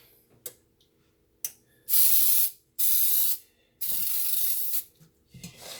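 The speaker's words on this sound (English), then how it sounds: "we're gonna also spray this too with some baker's joy" Three sustained hissing bursts of Baker's Joy baking spray coating a cake pan for a lime cake, each lasting about a second, with faint clicks of the nozzle and handling between sprays.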